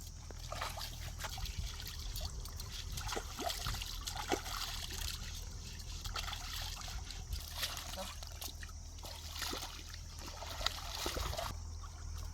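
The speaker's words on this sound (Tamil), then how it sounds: "மழை பெஞ்சதுனால ஆற்றுல கொஞ்சம் தண்ணி ஜாஸ்தியாக போயிட்டுருக்குங்க" River water, swollen after rain, flows and trickles steadily with light splashing, over a low rumbling undertone, continuous throughout.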